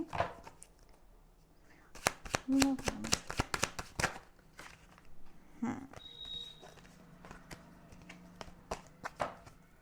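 Tarot cards shuffled by hand for a monthly reading, a run of crisp riffling flutters and taps, close and distinct, with brief soft voice sounds between them.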